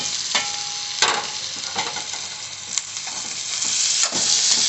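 Potatoes fry in a spiced masala while a spoon stirs them, giving a steady close sizzle broken by repeated scraping strokes against the pan.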